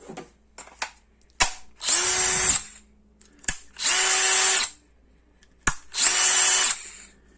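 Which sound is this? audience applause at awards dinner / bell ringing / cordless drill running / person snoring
cordless drill running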